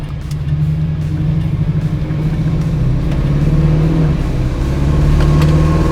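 A rebuilt 350 V8 in a 1967 Chevrolet Camaro runs steadily with a deep, rumbling low idle that swells slightly, loud and close, with no voices.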